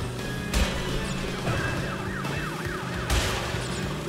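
A police siren in the video game Crash Bandicoot: Warped wails, sweeping up and down steadily over a busy engine-like drone, with a couple of heavier thumps partway through.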